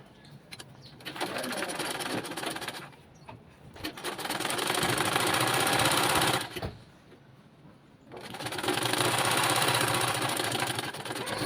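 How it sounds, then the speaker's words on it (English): A sewing machine stitches fabric for a baby frock in several close, rapid whirring bursts, separated by brief quiet pauses while the cloth is turned. "So I'll just sew here and turn over."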